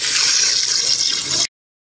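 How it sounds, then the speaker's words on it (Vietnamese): Water pours steadily into a pot of boiling fish-sauce broth for Vietnamese bánh cống and bún nước lèo. The splashing stream is loud and close, then stops abruptly after about a second and a half. "bây giờ mình sẽ cho nước vào."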